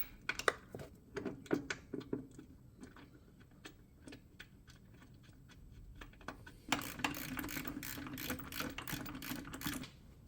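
Quiet, close ratchet clicking while a Porsche 944 starter motor is fitted, with irregular bursts of light metallic ticks that give way near the end to a faster, denser run of clicks.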